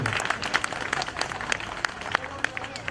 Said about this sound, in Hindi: हामिद भाई के लिए तो तालियां बजाओ यार